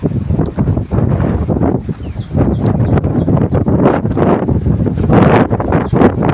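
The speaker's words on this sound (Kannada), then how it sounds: "ಗಾಳಿ ಜಾಸ್ತಿ ಇರೋದ್ರಿಂದ ಏನು ಕೇಳಿಸಲ್ಲ" Strong, gusty wind buffets loudly and unevenly against the microphone, roaring in surges with no other clear sounds.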